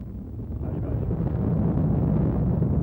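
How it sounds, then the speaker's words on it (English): Ariane rocket main engines at ignition and liftoff, a loud, dense, continuous roar that builds slightly and holds steady, heavy in the low end with no talk over it. "Ignition and liftoff."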